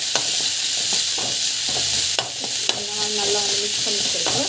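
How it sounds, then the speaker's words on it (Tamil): Tomatoes and coriander are sautéed in a pan with a steady loud sizzle, while a utensil scrapes and stirs in repeated clinks and scrapes over several seconds, close by and with no voices. "டமாட்டா அவ்வளோதான் போட்டு நல்லா வந்து வதக்கிட்டுக்கோங்க."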